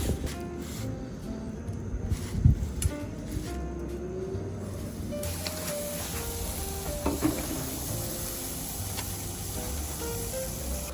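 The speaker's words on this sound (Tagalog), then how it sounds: "Okay guys, mag-ihaw na tayo." Oiled pork barbecue skewers sizzling on a grill, a soft continuous crackle with a few brief clatters and knocks of handling, no talking.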